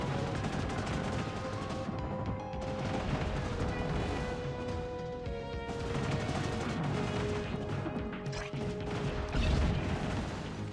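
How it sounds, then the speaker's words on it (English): Turret fire in the colony-building game Industries of Titan, with rapid mechanical shots and clanks over a steady musical background, fairly quiet throughout. "Got them distracted by getting the turret to shoot at it."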